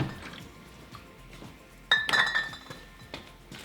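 Glass milk bottles clink together as they are set back into milk crates, a sudden cluster of bright, close chinks with a few lighter knocks trailing after.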